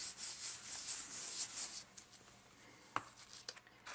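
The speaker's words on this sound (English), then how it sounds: "so good old t-shirt. Just rub off the excess ink" A cotton t-shirt is rubbed over a watercolor painting to lift excess ink, giving soft, close scrubbing strokes with a few sharper brushes and taps toward the end, with no voices.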